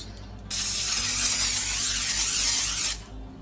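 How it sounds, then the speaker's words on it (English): A nonstick olive oil cooking spray can hisses steadily into a casserole dish in one continuous burst of about two and a half seconds, close and fairly loud. "I'm just using this nonstick olive oil spray."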